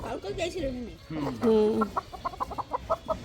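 Black and other colored hens in a rural yard cluck in a quick, steady run of short calls close by, while a voice talks over the start.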